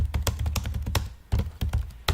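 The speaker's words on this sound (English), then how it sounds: "I can't type and talk at the same time" Rapid, uneven clatter of keys on a computer keyboard, close and crisp, with a brief pause partway through before the tapping resumes.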